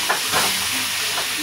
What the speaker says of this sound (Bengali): জল দিচ্ছি মশলাটা যাতে পুড়ে না যায়।